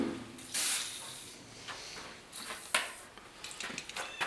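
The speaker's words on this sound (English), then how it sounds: "Give it a little bit of penetrating oil." Penetrating oil sprayed onto the mechanism of an old Rockwell table saw in a workshop: short, quiet hissing bursts from an aerosol can, separated by small clicks and handling noises.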